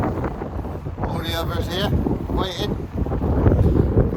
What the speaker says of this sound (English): it is windy, so sorry for any noise